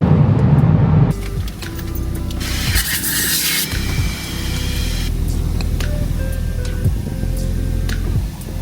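An automatic car wash sprays and scrubs a car, a loud rushing hiss of water jets with rubbing and mechanical whirring that shifts in intensity over several seconds, heard from inside the vehicle without talk.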